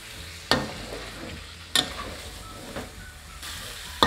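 Coconut milk reduced after one and a half hours of boiling with sticky rice ketupat is stirred in a pot, giving a few soft scraping strokes about every second over a faint simmering hiss.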